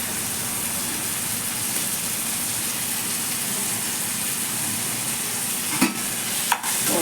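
Tomatoes and onions sauté in hot oil for a prawn curry, a steady broad sizzle with a couple of sharp clinks or stirring knocks near the end and no talk.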